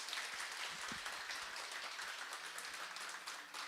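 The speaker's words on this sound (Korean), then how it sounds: "큰 박수로 합니다." Church congregation applauding at the close of a testimony during a Sunday worship service, a steady broadband wash of many hands clapping at moderate level throughout, with no talk over it.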